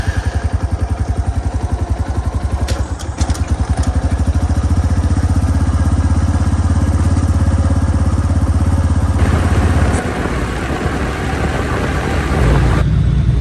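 A motorcycle on a first bike tour, its engine running with a rapid, throbbing pulse and rumble throughout, loud and close. Wind and road noise mix in and the engine tone changes partway through. No one speaks.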